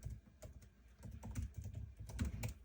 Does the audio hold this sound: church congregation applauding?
no